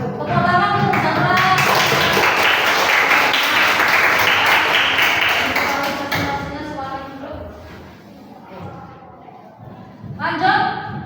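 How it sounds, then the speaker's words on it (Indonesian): Classroom applause for a student after a group presentation, a dense wash of many hands clapping for about six seconds, then tapering off as voices and scattered sounds take over. "Tepuk tangan untuk Zara."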